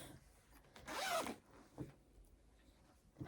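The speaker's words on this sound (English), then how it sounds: "I just did all the zips at once, just to make it kinder on your ears, really." Several fabric-bag zippers are pulled open and shut together in one long, loud rasping burst, followed by a few quieter zip and handling noises nearby.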